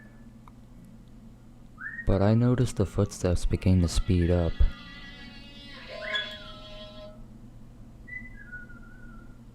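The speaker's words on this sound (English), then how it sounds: "perhaps because of the happy whistling tune." Someone following on foot whistles a cheerful tune while a voice talks over the middle section; the whistled notes continue faintly afterward over a low background hum.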